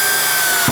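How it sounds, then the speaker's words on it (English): A drill's clutch skips as a screw is driven flush into wood: a steady whirring hiss, then a brief burst of ratcheting clatter at the very end. "So that noise there is the clutch skipping"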